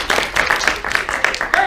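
An audience claps in short scattered bursts at a live storytelling performance, several uneven claps over a couple of seconds, fairly close and mixed with murmured voices.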